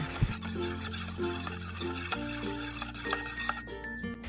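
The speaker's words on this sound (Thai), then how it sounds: "พอใส่เสร็จแล้วก็คนตัวน้ำแป้งให้เข้าๆกัน" A utensil stirs pumpkin flour batter in a bowl, with a steady scraping and swishing and occasional light clinks against the bowl. A low hum runs underneath, and nobody speaks.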